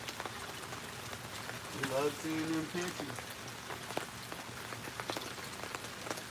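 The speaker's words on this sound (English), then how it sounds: "How come every time you get ready to go live it rains?" Steady rain patters outside during a live stream of someone cleaning mountain material from Missouri, a constant broadband hiss running throughout beneath people talking.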